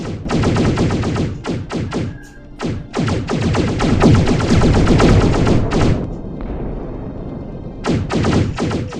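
Rapid video game gunfire in dense automatic bursts, loud and close, with a short pause before firing resumes, and no talk over it.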